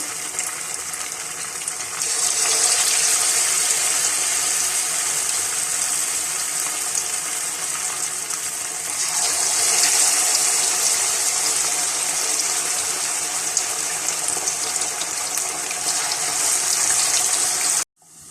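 Marinated fish pieces fry in hot oil over a medium flame, giving a loud, steady hiss that runs unbroken for about eighteen seconds with no talking.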